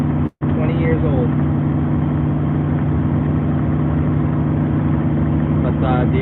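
A 2004 truck's engine idles with a steady, deep rumble and somewhat loud, droning exhaust, close and continuous throughout with no breaks.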